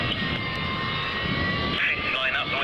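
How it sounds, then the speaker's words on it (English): An aircraft roars steadily overhead during a flypast at a D-Day 50th commemoration, a loud sustained engine drone that swells near the end, with voices talking over it. "some fantastic flypasts coming up"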